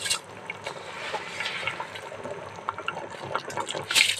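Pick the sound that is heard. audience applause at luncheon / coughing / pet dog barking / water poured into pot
water poured into pot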